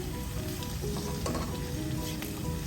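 Ginger sizzles in a pan for a pumpkin, radish and potato curry, a dense continuous frying hiss, close and steady, with a faint clink partway through.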